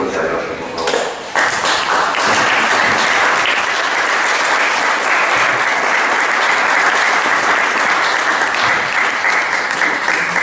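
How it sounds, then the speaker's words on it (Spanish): A loud, sustained round of audience applause at a library award ceremony, starting after a brief moment and continuing evenly for about ten seconds, many hands clapping close and full. "para que pida un fuerte aplauso, por favor"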